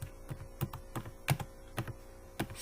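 Rapid bursts of typing on a computer keyboard while writing C++ code, clear close keystrokes in an irregular rhythm with brief pauses, over a faint steady mains hum.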